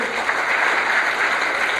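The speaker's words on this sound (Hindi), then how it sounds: "एक बार जोरदार तालियां बजाएं इनके लिए।" Dense audience applause at a BSF camp gathering in Kishanganj, Bihar, a loud, continuous wash of many hands clapping close by.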